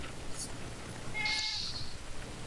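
A house cat meows once, fairly close and brief, a single rising call over faint background room noise.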